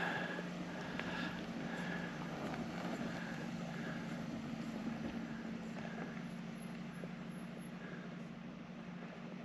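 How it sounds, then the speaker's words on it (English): Camera drone flying over Valley of the Gods, giving a faint, steady propeller hum with a low buzzing tone and soft outdoor noise throughout. "I want to fly the drone as much as possible"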